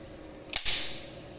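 A 63 A two-pole automatic transfer switch (TXATS4) switches over from the solar supply with one sharp mechanical clack, followed by a short fading whir, close and alone.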